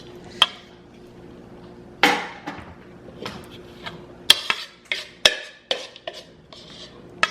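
A spoon scraping chocolate chip muffin batter around a mixing bowl, close-up with scattered sharp clinks and knocks and soft smearing scrapes in uneven bursts over quiet room tone, with no one talking.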